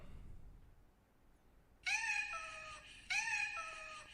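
A domestic cat lets out two loud, drawn-out meows in a quiet room, the first around the middle of the stretch and the second a little over a second later, each sliding down in pitch.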